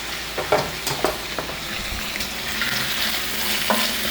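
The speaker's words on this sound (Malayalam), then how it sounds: "എല്ലാം ഒന്നും കൂടി ഫ്രൈ ആക്കി കൊടുക്കാം." Long strips of yellow, red and green capsicum fry in a pan for fried rice, crackling steadily up close while a spoon scrapes and clacks against the pan in short bursts.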